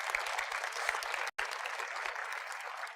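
Audience applause at a keynote speech, a steady dense clatter of many hands clapping at close range, with a momentary cutout partway through before the clapping resumes and carries on evenly.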